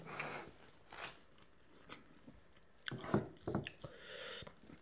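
Someone chews raw bitter gourd up close, with soft, wet bites and squishy crunches coming in irregular bursts, quiet and alone, with a few clearer crunches later.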